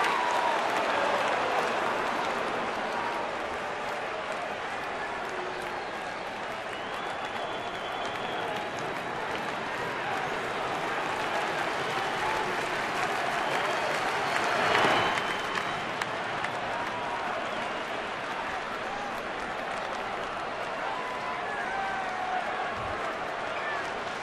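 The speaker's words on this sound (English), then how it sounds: "They rise to their feet. A sellout crowd with Yadier Molina at the plate" Sellout baseball crowd rising to its feet with Yadier Molina at the plate in a St. Louis at Milwaukee game, loud sustained cheering and applause filling the stadium throughout, swelling briefly midway.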